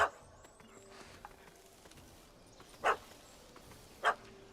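Dog barking in The Witcher video game, two short sharp barks a little over a second apart near the end, after a faint yelp at the start, over a quiet background.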